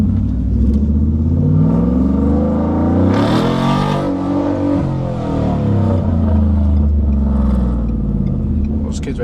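A 2022 Ford F150 single cab pickup revs hard and pulls away, a loud rumbling engine surge with a brief high roar mid-clip, while people talk over it.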